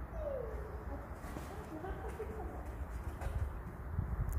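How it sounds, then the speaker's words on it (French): Pigeons cooing faintly in the background of a horse riding arena, soft low coos over a steady ambient noise. "C'est les pigeons."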